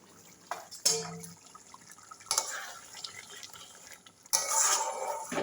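Water is poured in three separate splashing bursts into a cooking pot of food in a home kitchen, with faint clinks of cookware between the pours.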